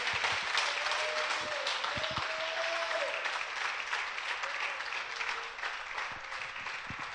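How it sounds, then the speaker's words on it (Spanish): Church congregation applauding together, a steady, dense wash of clapping that holds evenly throughout, with a faint sustained tone running beneath it partway through. "Dele un aplauso al Señor."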